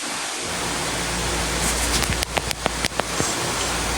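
Steady rain falls as a loud, dense hiss close by, and a run of sharp, distinct drips or taps strikes a surface toward the end.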